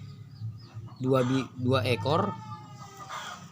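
A fighting rooster clucks and crows close by in a few loud bursts, with someone speaking briefly in the background.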